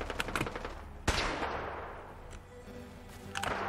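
Gunfire during a fight in Fallout 4, with a quick burst of shots followed by one loud, booming blast that rolls off into a long echoing tail. Another shot cracks near the end, all without talk.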